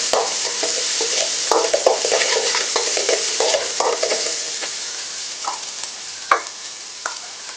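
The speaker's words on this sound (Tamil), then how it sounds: "இது பச்சை வாசனை போகிற வரைக்கும் கொஞ்சம் ஃப்ரை பண்ணிவிட்டு வெங்காயத்தையும் சேர்க்கலாம்" Garlic-ginger paste sizzles in a hot pan while a utensil stirs it, giving steady close frying hiss broken by repeated scraping clinks and taps, no talking.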